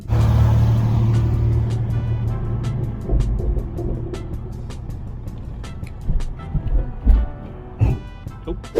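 A BMW E36 with an LS3 V8 swap rumbles steadily from inside the cabin, with a low droning engine note and occasional thumps and knocks as it drives.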